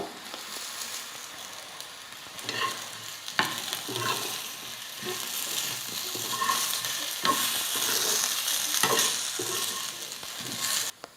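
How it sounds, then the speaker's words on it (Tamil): Coarsely ground spice powder being stirred and fried in oil with plantain for a raw banana fry: a soft, steady sizzle broken by repeated scraping spoon strokes, close and moderately quiet, with no talk. "எண்ணெயில் வந்து நல்லா ஒரு நிமிஷத்துக்கு நல்லா வறுத்துக்கிட்டேன் இப்போ நம்ம அரைச்ச பொடி வந்து சேர்த்துக்கலாம்"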